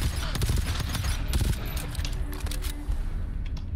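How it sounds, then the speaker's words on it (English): A sentry gun in the co-op shooter game GTFO fires a loud, dense volley of rapid shots and impacts, close and continuous, amid game noise. "Did that sentry just kill him with one shot?"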